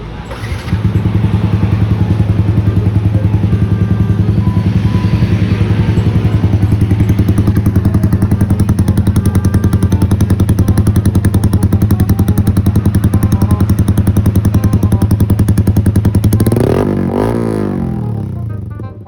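A big bike motorcycle fitted with an SC Project titanium exhaust idles loud and close with a steady, lumpy burble, then blips into a sharp rev near the end before settling back; no talking.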